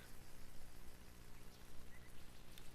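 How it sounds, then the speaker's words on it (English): Steady rain from a dreary downpour in a video game, a dense, even hiss of falling drops with scattered droplet patter, continuous and fairly soft, no voices. "A dreary downpour starts off the Monday."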